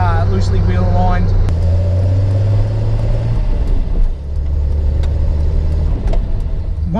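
A home-built Datsun 240Z drives along a road, its engine giving a steady low drone with constant road rumble from start to finish, and someone talks over it.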